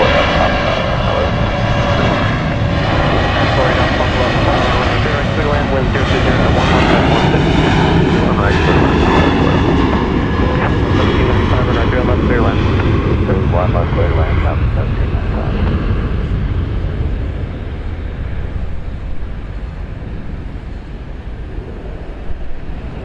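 A Southwest Boeing 737-700 jet takes off from Dallas Love Field on runway 31 right, a loud, steady roar of jet engines swelling and then easing slightly as it climbs away, with wind buffeting and faint voices underneath.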